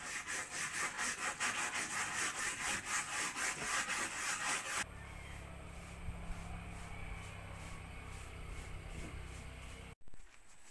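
A handsaw cuts timber to length for a long gate, making steady rhythmic rasping strokes for several seconds before the sawing stops and a quieter background hum continues.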